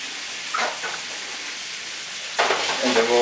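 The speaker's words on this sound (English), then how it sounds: "as we let this saute over here and our pasta is still cooking" Shrimp sautéing in a pan, a soft steady sizzle with a louder burst of frying hiss near the end.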